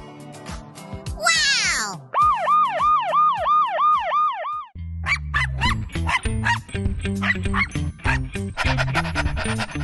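A Paw Patrol toy police car siren wails in rising and falling electronic whoops, surrounded by playful toy sound effects and music, loud and close.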